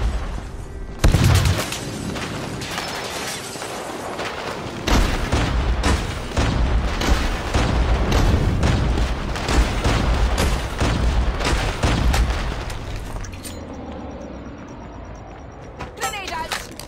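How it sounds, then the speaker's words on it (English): Call of Duty Mobile airstrike and gunfire rumble loud and sustained, with repeated booms and rapid shots layered over a heavy low roar before fading out near the end. "Enemy airstrike incoming."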